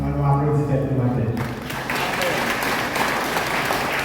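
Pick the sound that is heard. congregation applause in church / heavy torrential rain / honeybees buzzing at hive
congregation applause in church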